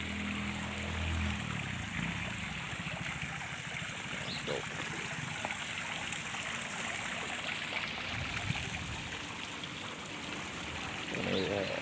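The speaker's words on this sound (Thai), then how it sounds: "น้ำตกด้วยนะครับ" A waterfall at a restaurant in Sakon Nakhon gives a steady, broadband rush of falling water that runs without a break, with faint background murmurs.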